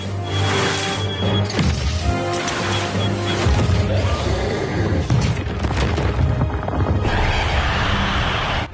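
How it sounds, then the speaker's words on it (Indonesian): Heavy booming blasts and crashing impacts roll through a dense, loud mix, with sharp bursts around the middle and a sustained roar at the end. "melemparkan bom di beberapa sisi untuk menciptakan ledakan besar"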